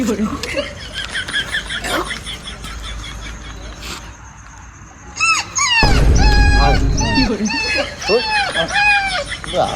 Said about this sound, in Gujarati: કૂતરાનો અવાજ